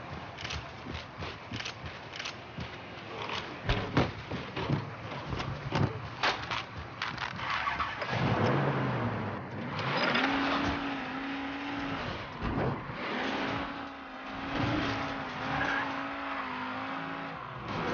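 In the video game Mafia 3, a vehicle in the bayou starts with a burst of clattering, rumbling engine noise, then settles into a steady idle hum that holds at moderate loudness.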